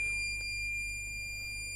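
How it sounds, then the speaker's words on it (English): Buzzer on a transistor circuit board sounding a continuous high-pitched electronic tone, steady and unbroken throughout, close by with a faint hum underneath. "the voltage on the base of the transistor rises and turns on the buzzer"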